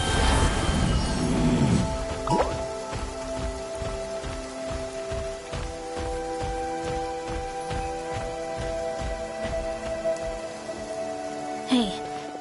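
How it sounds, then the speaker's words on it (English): Steady rain falls in the video game Genshin Impact, a dense even patter of drops on surfaces that continues throughout with a few louder splashes, close and without talk. "Rain. My hair and feathers are gonna get soaked."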